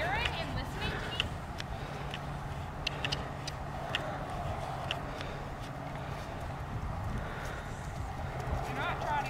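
A horse steps over ground poles in a riding arena, its hooves clip-clopping in a loose rhythm with occasional sharper knocks, fairly distant under people talking.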